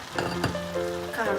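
Potato pieces fry in a hot pan with a steady, close sizzle and crackle. A few brief tonal clatters sit on top, as if from stirring.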